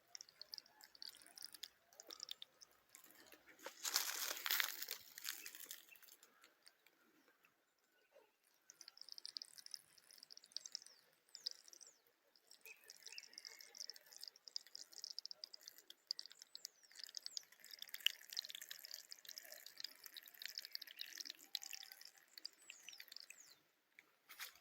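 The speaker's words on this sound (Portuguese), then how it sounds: "eu passo a mão nos espinhos e dá para escutar um barulho semelhante ao barulho da água caindo da chuva" A hand brushes across the spines of a facheiro cactus in the Caatinga scrub near Santa Cruz, RN, making a faint, dry, crackling patter like light rain, louder in one early sweep and then continuing in uneven rustles.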